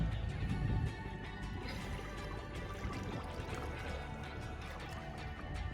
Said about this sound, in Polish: Dobra, zanurzam się pod wodę.